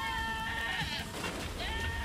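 Sheep bleating in the video game Albert & Otto, two wavering bleats in quick succession over a dense game soundtrack, moderately loud.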